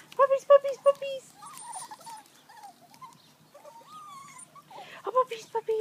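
Podenco mix puppies whimper and yelp close by in short, high, broken cries, coming in quick clusters at the start and end with softer whines in between.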